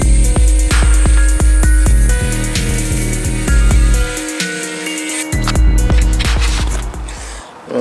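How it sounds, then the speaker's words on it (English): An angle grinder with a grinding disc bites into a metal nut while fitting a front lip to a Mazda MX5, a loud whining, buzzing drone that rises and falls in pitch across several bursts of cutting, no talk. "I've managed to grind that nut right down"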